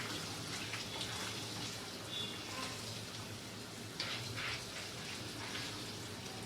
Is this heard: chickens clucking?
no